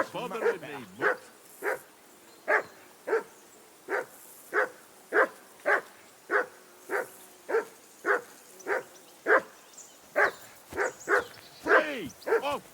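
A dog in Kingdom Come Deliverance II barks over and over in a steady, evenly spaced rhythm, roughly two barks every second, moderately close and clear against a quiet outdoor background.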